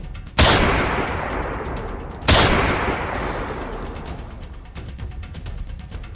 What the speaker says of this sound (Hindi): हम कानून नहीं तोड़ते, इसलिए तुम्हारे पैर में गोली मारी है, सीने में नहीं।